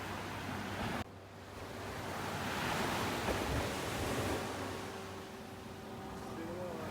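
Waves wash onto a beach in North Naples, Florida, making a steady, wide roar of surf that swells and eases with wind buffeting the microphone. A brief cut comes early on.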